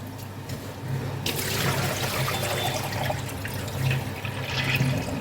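Idli rice is being washed in water, heard as a close, continuous sloshing and pouring rush that swells after a quieter opening and keeps running without talk.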